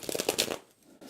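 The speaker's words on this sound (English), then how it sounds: "Got one more real good, what I call aerated shuffle." Tarot cards being shuffled by hand: a quick run of crisp riffling snaps for about half a second, a brief pause, then a softer rustle, close up with no speech.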